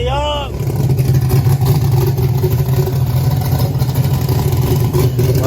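Car engine in a restored project car called Ruby, fitted with a swapped engine never intended for it, starting with a brief cranking whine and then running at a loud, steady idle with low rumble close by, under talk.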